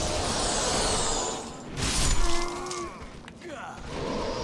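In Demon's Souls, a thrown firebomb bursts with a sharp shattering crash and a rushing whoosh of flame, loud and close, over low game ambience, followed by a few smaller clatters and mechanical sounds.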